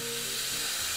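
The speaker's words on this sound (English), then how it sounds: "Now I'm purging using the cappuccino button here, or you can also use the latte button." Steam wand on a Lavazza Blue LB4724 or LB4702 capsule coffee machine purging through a cloth, producing a loud, steady, broadband hiss of steam that stays constant from start to finish.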